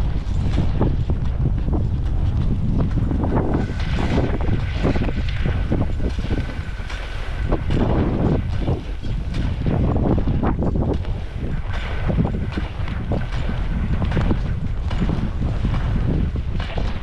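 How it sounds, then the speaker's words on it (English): Heavy wind at Heavenly Ski Resort buffets the microphone in continuous loud rumbling gusts, with faint mechanical clatter underneath and no talking. "It's very windy out here."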